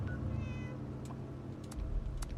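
A cat meows inside the video game Fallout 76, one short tonal call over a steady bed of game ambience, with a few faint clicks and no talk.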